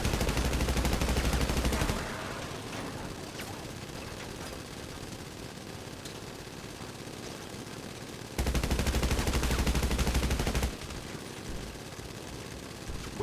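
Sustained automatic gunfire from enemies in GTA Online, loud and relentless, with two heavier bursts of dense shooting at the start and again near the end over a continuous roar of battle.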